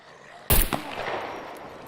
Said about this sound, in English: That was a headshot, but he's wearing a helmet, so it probably ricocheted.